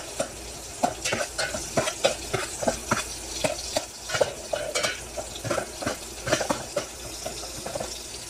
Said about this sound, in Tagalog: nagisa na natin ang ating bawang sibuyas